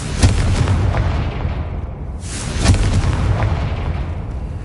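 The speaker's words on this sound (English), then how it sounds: "Confringo." Confringo fire spell in the Hogwarts video game sets off deep booming blasts, two heavy explosions about two seconds apart with rumbling crackle between them, loud and close with no talk.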